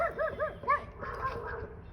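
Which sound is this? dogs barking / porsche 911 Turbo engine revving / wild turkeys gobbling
dogs barking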